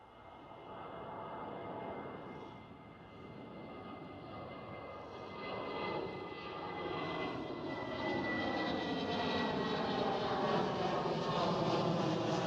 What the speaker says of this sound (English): And there's the next departure. Must be Speedbird.